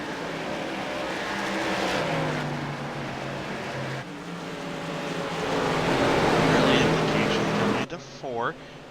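Engines of ARCA Series race cars in iRacing at Iowa under green-flag racing, a loud, steady roar with cars sweeping past, ending in short pitch-bending passes, with a commentator talking over it.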